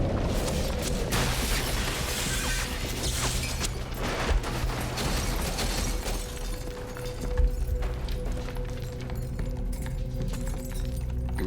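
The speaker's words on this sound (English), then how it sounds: "that explosion happens." An explosion special effect staged for a Grey's Anatomy hospital drama scene gives way to a dense crashing, shattering rumble of debris and mechanical noise that settles into a lower, steadier din.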